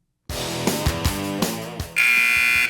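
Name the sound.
intermission buzzer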